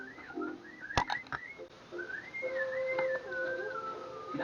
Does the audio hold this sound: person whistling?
yes